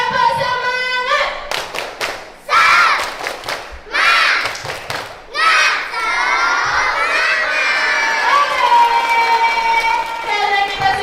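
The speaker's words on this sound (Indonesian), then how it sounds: "Mari kita tepuk semangat bersama biar kita lebih semangat." A group of children performs the tepuk semangat clapping chant in a classroom, shouting rhythmic syllables together with bursts of sharp clapping, loud and close, ending in a sustained excited group cheer.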